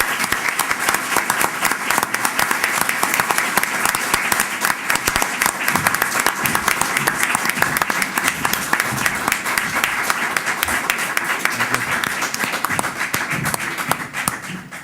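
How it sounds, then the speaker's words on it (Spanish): Sustained applause from an audience at a tribute ceremony for an honoree, a dense, even roar of many hands clapping that continues for about fifteen seconds and tapers slightly at the end. "les pido un fuerte aplauso para él"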